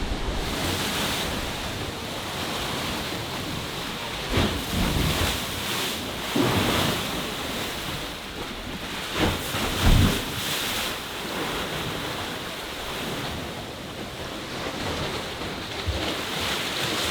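Ocean waves crash against the rocky coast of Acadia National Park on a windy, overcast day, a loud continuous roar of surf with heavier breaking surges every few seconds and strong wind buffeting the microphone.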